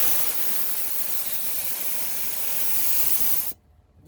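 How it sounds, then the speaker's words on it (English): A purge valve venting pressure in a strong, steady, close hiss for about three and a half seconds, cutting off abruptly into near silence. "That's just the purge valve. push it in. It purges it out."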